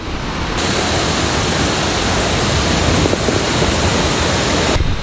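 Loud, continuous roar of rushing water from Induwara Ella waterfall in Kuruwita, Sri Lanka, broad and unbroken, filling the whole scene with no other sounds.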